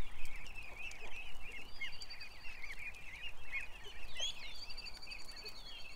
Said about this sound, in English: I've got a goose right beside me that I could pick up